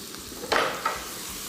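Sliced onions hit hot cooking oil in a pan and start to sauté, giving a steady sizzle with a scraping stir and a brief clink of a utensil.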